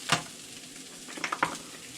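Salad greens tossed in hot oil in a pan give a faint, steady sizzle, with a quick clatter at the start and a few soft stirring knocks near the end.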